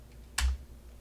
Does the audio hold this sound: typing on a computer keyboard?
yes